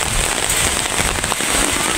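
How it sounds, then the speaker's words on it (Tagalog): Rain begins falling on a walking trail near the hanging bridges of Barangay Burol, Majayjay, Laguna, giving a loud, dense, crackling patter that runs steadily throughout with no voices. "Guys, nabutan na kami ng ulan."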